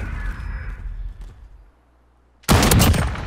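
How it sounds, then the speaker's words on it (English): A sudden loud burst of video game gunfire erupts near the end after a quiet stretch, preceded by low rumbling and faint background noise. "Where did that shot go? Like, I shot at him, too."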